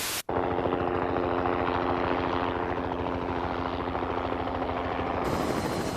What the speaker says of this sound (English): Helicopter rotors work just like airplane wings.